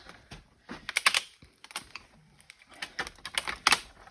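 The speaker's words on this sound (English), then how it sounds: "They're the bolt cutters." Bolt cutters cutting apart a laptop, a series of sharp irregular snaps and clicks, close and fairly loud, with brief pauses between bites.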